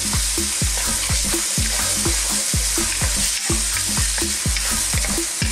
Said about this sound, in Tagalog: So, haluin na po natin ito ng mga ilang minuto.